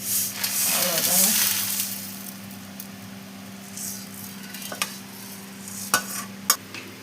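Idli chilli powder dry-roasts in a pan and is stirred, giving a soft scraping sizzle that fades, followed by a few sharp clinks and taps of a utensil in a quiet kitchen.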